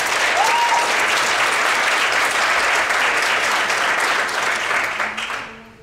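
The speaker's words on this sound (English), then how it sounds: "one more round of applause for our Trailblazer" A conference audience in San Diego gives a sustained round of applause for a panel trailblazer, a loud, dense clapping that holds steady before thinning and fading out at the end.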